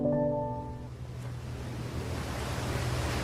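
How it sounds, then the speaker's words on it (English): Loud rushing water in a dark, echoey enclosed space, a steady broad roar that swells and holds after a brief fading tone at the start, with no talking. "It's spooky in here! And the water's so loud!"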